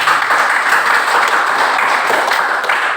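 An audience bursts into steady, dense applause after group presentations in a classroom, sustained clapping filling the whole moment.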